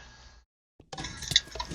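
A Minecraft player drops into the water at the bottom of a Frost Walker fall trap, giving a short, soft splash after a brief silence, followed by bubbling water noise.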